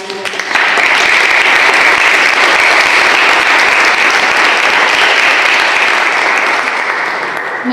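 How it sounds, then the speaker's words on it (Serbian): A loud burst of applause from an audience at a gathering rises quickly and holds as dense, sustained clapping before easing slightly at the end. "Ja vas molim da jednim gromkim aplauzom pozdravimo ga."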